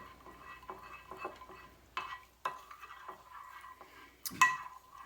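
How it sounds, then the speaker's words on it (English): A spoon stirs melted butter and chocolate chips together in a bowl, giving soft repeated scraping swirls with a few sharper clinks against the side, close and quiet. "we're going to melt this butter and those chocolate chips together and swirl them around so they're all combined"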